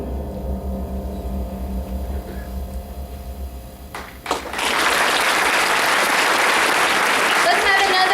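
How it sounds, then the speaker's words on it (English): A school Veterans Day program audience bursts into loud, sustained applause after a hum-filled lull, with dense clapping filling the hall and continuing steadily to the end. "Let's have another round of applause for the people who risk their everyday lives for our freedom."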